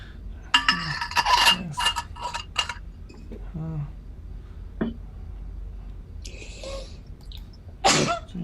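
Several sharp sneezes burst out one after another, with short quiet gaps and some clinking in between.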